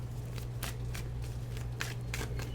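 Soft, repeated riffling and slapping of a deck of tarot cards being shuffled, a quiet close-up sound in short bursts over a low background hum.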